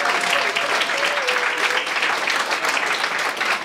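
Steady audience applause filling a small community cultural-centre hall during a jam-session concert, dense clapping holding for several seconds as a band's drummer is introduced.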